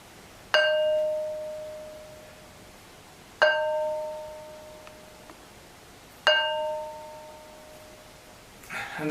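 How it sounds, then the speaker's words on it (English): A heavy stone of about 15 kilos, struck three times, rings out like a bell with a clear pitched tone and overtones that decay slowly after each strike. It is close and alone, with a faint rustle at the end. "Demonstration how these stones ring like bells"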